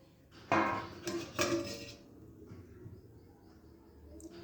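A lid clatters onto a pot of cooking wheat-flour ladoos, two sharp metallic knocks close together, followed by a quiet room murmur and a faint low hum.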